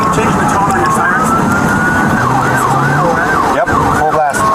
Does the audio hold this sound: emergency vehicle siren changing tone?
yes